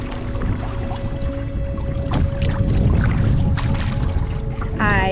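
Wind-driven waves slosh and lap against a canoe hull nearby on a lake in Algonquin Park, under a steady low rumble of wind, with a brief watery splash near the end.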